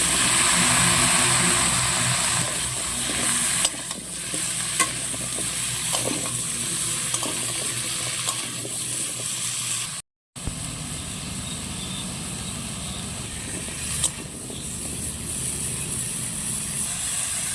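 Pumpkin frying in hot mustard oil left over from fried fish, after chillies are briefly fried, giving a loud continuous sizzle with occasional stirring clatters and a short dropout partway through.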